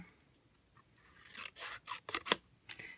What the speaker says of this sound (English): I'm going to snip this out.